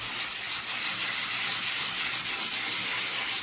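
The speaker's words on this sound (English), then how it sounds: "So take the sandpaper and just kind of lightly go over that." Sandpaper is rubbed lightly over dry spackle patching a wall, a steady close hissing scrape in even back-and-forth strokes, with no talk.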